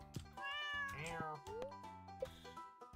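A cat meows in a farming video game, several short rising calls set over background game music, moderately loud and close.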